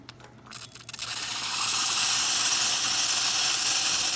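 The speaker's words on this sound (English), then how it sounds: "So first let's run the steam." An Expobar espresso machine's steam wand builds a loud, steady hiss quickly after a few sputters and then holds, close and continuous.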